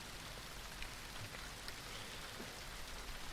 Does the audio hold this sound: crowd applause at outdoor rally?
no